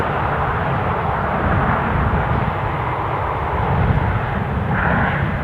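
A Ryanair jet bound for Alicante at Newcastle airport produces a loud, steady engine roar that holds throughout with little change.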